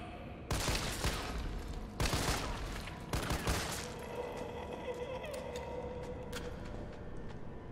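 Gunfire in Resident Evil 3, several loud bursts of shots in quick succession early on, then quieter game noise, with a player talking over it.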